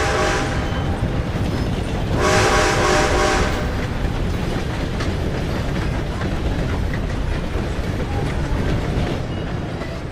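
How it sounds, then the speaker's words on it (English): A train rolls past in Red Dead Redemption 2, its steady clattering rumble loud and continuous throughout, with a brief swell of brighter rail noise early on and no talk over it. "Gotta beat that train, Morgan!"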